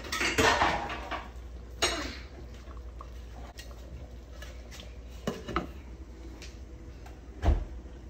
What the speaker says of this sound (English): now you're gonna put a lid on it and then turn the temperature down so that sauce can reduce